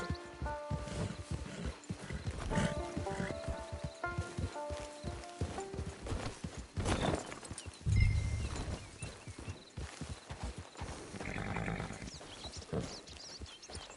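Horse hooves clip-clop steadily in Red Dead Redemption 2, with a whinny and other game sounds mixed in, and no talking.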